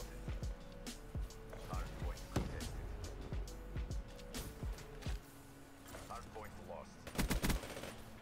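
Rapid bursts of PPSH submachine gun fire from Call of Duty: Black Ops 3, sharp clustered cracks repeating in short strings with a dense volley near the end, mixed with game effects and background noise.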